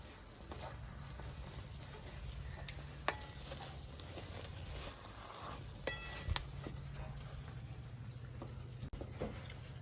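Semolina sheera with cardamom powder being stirred in a pan, a soft, steady low sizzle with faint scraping and a few small taps of the spoon against the pan, fairly quiet throughout.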